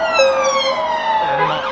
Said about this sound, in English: there's lots of police cars whizzing through here